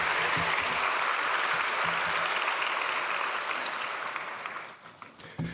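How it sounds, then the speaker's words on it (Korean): A large church congregation applauds to welcome a pastor to the pulpit, a dense, steady roar of clapping that gradually fades out near the end. "우리 나오실 때 박수로 환영해 주시면 감사하겠습니다."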